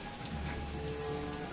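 Steady rain falls in a video game while Peter Quill lingers out in it, a constant soft hiss of drops on surfaces throughout, fairly quiet with no talk.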